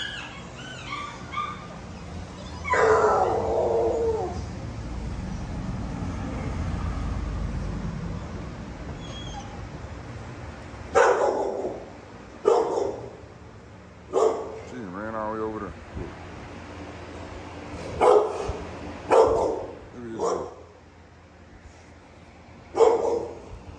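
Several dogs bark, whimper and yip in short, loud bursts, some close to the microphone, with talking heard between the barks around kennels at home.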